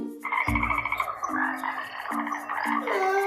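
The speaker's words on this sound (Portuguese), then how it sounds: "Não, aquilo é um sapo." A frog croaks in a series of repeated calls, clear and close, with no talk over it.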